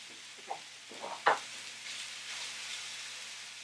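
Raw meat for a keto stir-fry being pushed around a hot pan, a soft sizzle with a few brief scraping clicks near the start, quiet and without talk.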